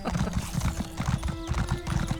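A horse gallops in the Elder Scrolls Online video game, loud close hoofbeats in a fast, even rhythm with a faint sustained tone beneath, and no talk.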